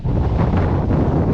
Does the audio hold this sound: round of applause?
no